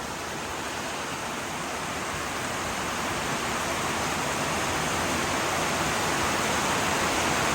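A dense, unbroken roar of heavy rain pouring down in a storm, loud and constant, with no voices.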